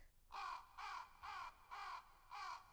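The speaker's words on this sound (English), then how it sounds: "The raven himself is hoarse, that croaks the fatal entrance of Duncan under my battlements" A raven croaks five times in a steady rhythm, each call harsh and hoarse, close and loud against a quiet background, used as a sound effect in a classical radio drama of Macbeth.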